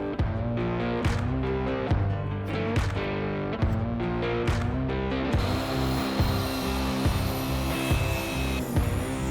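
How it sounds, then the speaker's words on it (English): A miter saw cuts cedar faceboards with a loud, steady motor whine that pulses as it runs. Partway through, a harsher, brighter cutting noise comes in, all heard up close. "we're gonna cut all of our cedar faceboards down to size over on our miter saw"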